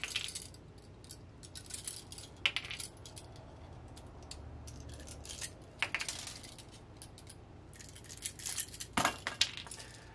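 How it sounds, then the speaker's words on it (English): Small plastic breakaway tabs being snapped off the ends of residential outlet receptacles, giving sharp clicks and light rattles scattered over a quiet background, with a louder crack near the end. "you're going to need to pop these little tabs off the end here"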